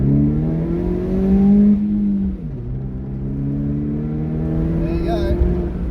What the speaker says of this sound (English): we'll see if we can get some of those throaty pod filter noises